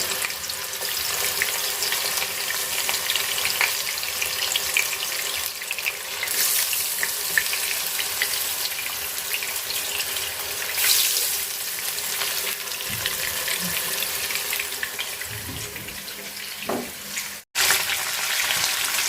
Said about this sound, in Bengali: তো এখন মাছগুলো আমি ভাজা নিব, হালকা ভাজবো।